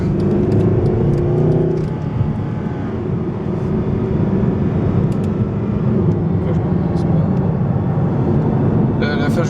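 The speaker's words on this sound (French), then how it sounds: "j'étais en manuel en fait pour rétrograder moi-même pour faire un peu de bruit" A Mercedes-Benz SLS AMG engine revving hard as it downshifts manually, a loud continuous roar with a rising pitch shift partway through, heard from inside the car.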